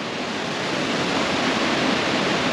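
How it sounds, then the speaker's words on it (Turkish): Water from the Mençuna waterfall rushes past in a steady, broadband roar, loud and unbroken throughout, with no one speaking. "Muhtemelen yukarıdan Mençune şelalesinden akan sular buraya doğru arkadaşlar geliyor."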